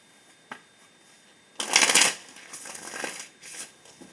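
Tarot cards shuffled by hand, a short flurry of riffling snaps followed by a few softer slides and taps, close and fairly quiet with no speech.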